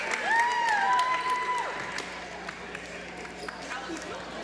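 Spectators in a school gym during a girls' high school basketball game, Paulsboro versus Sterling, fill the space with a steady, moderate crowd murmur, while sneakers squeak sharply near the start.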